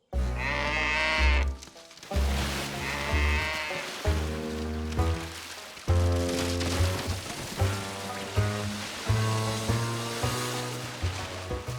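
A cartoon cow in Curious George lets out a series of rhythmic, drawn-out animal calls, repeated about every second or so over light background music.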